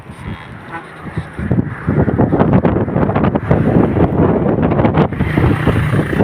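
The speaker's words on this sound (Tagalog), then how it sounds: "Napakalakas ho ng hangin dito, oh." Strong wind buffets the microphone in loud, roaring gusts that build and stay heavy, with a steady rumbling blast throughout, on Panguil Bridge in Tangub City.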